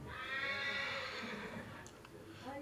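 A colt neighs during a yearling sale parade, a long loud whinny over steady background crowd noise, followed by a few brief sharp sounds.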